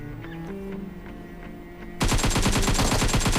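Gunfire in PUBG Mobile: after a quieter stretch of faint game sounds and brief clicks, a loud, rapid automatic burst erupts and keeps hammering in quick repeated shots to the end.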